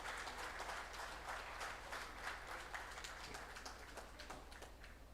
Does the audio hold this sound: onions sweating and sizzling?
no